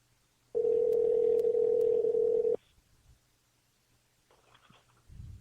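A steady electronic telephone ringback tone holds for about two seconds, then goes quiet, followed by faint clicks and a low thump near the end.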